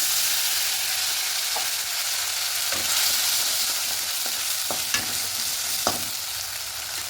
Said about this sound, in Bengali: এখানে আগে থেকে পেস্ট করেছিলাম আদা কাঁচা লঙ্কা পেস্ট এটাকে দিয়ে দেবো